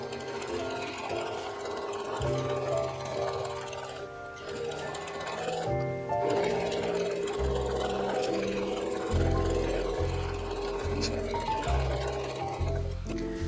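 A sewing machine stitches around a fabric bag for a cookie exchange, its motor running in steady bursts with short pauses between runs, close and fairly loud, with no talking.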